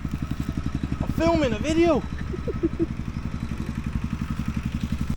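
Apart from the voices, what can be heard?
old tractor driving past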